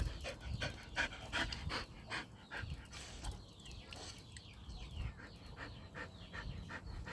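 A dog pants in quick, rhythmic breaths close up, with a few soft whimpers mixed in.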